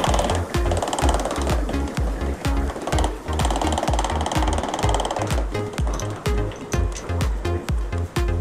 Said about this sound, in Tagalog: Baklas na tayo ng headlights para ma-pull natin yung frame.